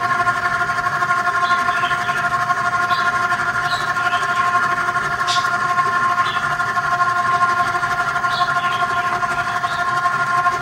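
An electric mixer on its lowest speed beating cake batter with ground walnuts, a steady, loud whirring hum with a few faint clinks over it.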